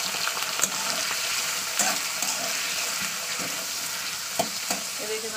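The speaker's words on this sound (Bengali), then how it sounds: "তেলটা আমার এদিকে গরম হয়ে গেছে, এবার আমি দিয়ে দিচ্ছি যে আলুটাকে কুটে রেখেছে" Chopped potatoes fry in hot oil for chow mein, a dense, constant sizzle close by, punctuated by a few sharp clinks and scrapes from stirring.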